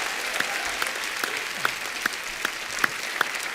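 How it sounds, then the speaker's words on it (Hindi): A studio audience at The Kapil Sharma Show gives sustained applause, a dense wash of clapping with a few sharper claps standing out, and no talking. "चलिए एक बार डॉक्टर साहब के लिए जोरदार तालियां हो जाए"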